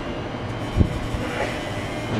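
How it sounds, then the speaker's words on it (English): Commuter train pulling away from Park Road Station in Brisbane, a steady low rumble with a brief thump of wheels on the rails, heard from the platform with no talk. "the train I just got off, heading out at the moment"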